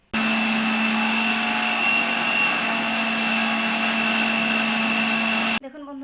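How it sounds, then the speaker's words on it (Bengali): Dried red chillies, stalks removed, whir in an electric grinder as a continuous loud motor drone with a steady hum for about five seconds, then the motor cuts off abruptly. "এই যে লঙ্কাগুলো আমি এখন গুঁড়ো করে নেব"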